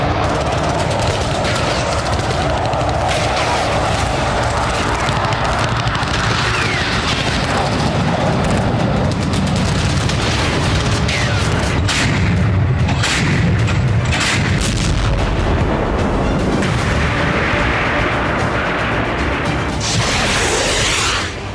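Continuous heavy artillery bombardment in the Russia-Ukraine war: booming artillery blasts and crashing explosions roll on back to back, loud and dense, with gunfire crackling throughout and no voices.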